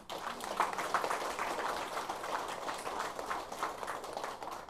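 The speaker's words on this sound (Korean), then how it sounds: "성모님에게 박수 한번 치세요." A church congregation claps together during Mass, a sustained dense wash of many hands applauding at a moderate distance in a reverberant hall, with no speech over it.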